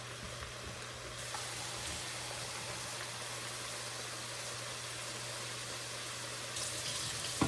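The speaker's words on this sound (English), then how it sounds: "I'm going to fill this up with 2 cups of water" A steady, faint rush of water pours into a pot, a continuous hiss with a low hum beneath, growing slightly brighter near the end.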